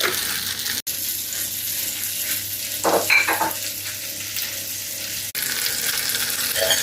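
Food cooks down in a pan for a cake recipe in a French kitchen, with a continuous close sizzle, a few brief stirring sounds and two short dropouts. Nobody talks.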